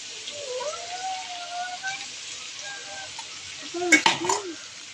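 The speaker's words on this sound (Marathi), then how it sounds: "आता याला छान परतून घेऊ आपण चांगला मसाला आपला शिजू देऊ" Chicken curry masala sautéing on medium flame, a low steady sizzle under a faint voice, with a brief cluster of spatula clinks against the pan near the end.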